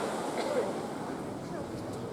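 Steady wind rushes and buffets across the microphone outdoors on Deribasivska Street in Odesa, a continuous broadband roar with faint voices underneath.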